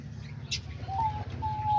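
Diamond doves kept in an aviary alongside budgies, lovebirds and cockatiels give soft low cooing and faint tonal calls, with a brief chirp from another bird amid quiet background noise.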